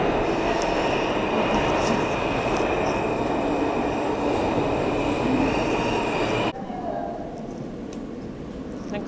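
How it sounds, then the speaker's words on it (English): A train rumbles loudly and steadily, filling the space with dense mechanical noise, then the roar drops abruptly as it settles, with faint voices underneath. "Here's my train."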